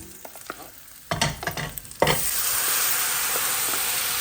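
Chickpeas tipped into a hot pan of oil and chilies for Punjabi chole, first a few quiet clinks and stirs, then a sudden loud sizzle that settles into steady, bright frying with no voices.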